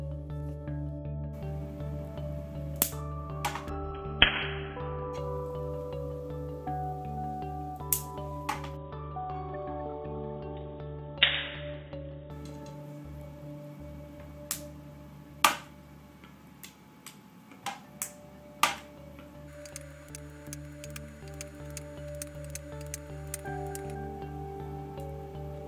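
Static sparks snapping from a raised pizza pan charged on acrylic, sharp isolated cracks at irregular intervals, some louder and some faint, over a low steady hum in an otherwise quiet room.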